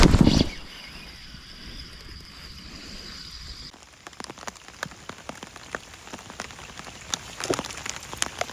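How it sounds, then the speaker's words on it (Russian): Rain begins falling during autumn pike fishing on a river, a steady patter of drops on surfaces with scattered sharper nearby impacts, following a brief louder noise at the very start. "Начался дождь."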